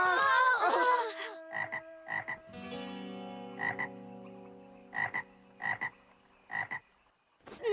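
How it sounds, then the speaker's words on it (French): A small cartoon frog from the Franklin animated series croaks in short, repeated bursts at an uneven pace, close and clear, with tonal musical sounds in the background. "Ce n'est qu'une petite grenouille."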